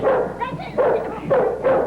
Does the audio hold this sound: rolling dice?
no